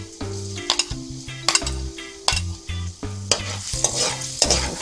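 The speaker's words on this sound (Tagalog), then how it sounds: "Pagkatapos po ay ilagay na natin ang ating bawang." Garlic sizzles in a small amount of hot oil in a pan while a utensil stirs it, with repeated scraping strokes and light clinks against the pan over a steady frying hiss.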